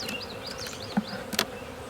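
Honeybees buzzing around an opened hive, several wavering close passes over a soft steady hum, with a couple of faint knocks from the hive.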